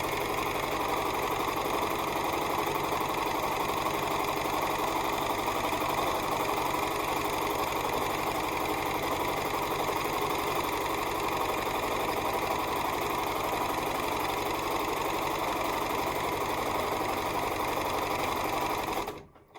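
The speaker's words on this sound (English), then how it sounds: "I don't really listen to the sewing machine." A sewing machine runs steadily while stitching a barn quilt, a continuous fast mechanical whir and rattle held close and even for the whole stretch before stopping abruptly.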